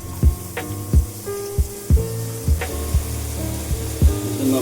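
Finely chopped onions frying in oil in a hot pan, a steady sizzle broken by regular scraping and stirring strokes roughly every half second, close and fairly loud, with no talk.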